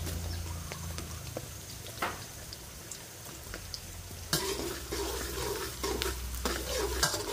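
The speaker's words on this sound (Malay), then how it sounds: "kita goreng bawang putih dulu" Garlic fries in hot oil in a pan for homemade tom yam paste, a soft steady sizzle with scraping stirs, which grows into louder, busier crackling partway through; no talk.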